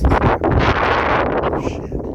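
Strong wind gusts buffet across an exposed mountain in East Tennessee, a loud, rushing roar that swells and dips with heavy microphone buffeting and no talking over it.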